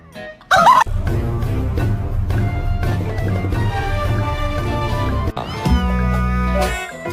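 A pet cat meowing indoors, a short sharp cry near the start followed by lower drawn-out vocal sounds, heard up close.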